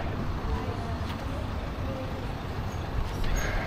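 Road traffic with buses and cars rumbles past near a beach town, a continuous low engine drone with passing vehicles and occasional louder swells, fairly close.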